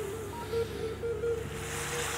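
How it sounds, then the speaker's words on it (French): Ocean waves wash and surge around a moving boat at sea, with wind rushing over the microphone and brief tonal creaks or whines rising above the steady water noise. "Ce qui est intéressant avec le son des vagues"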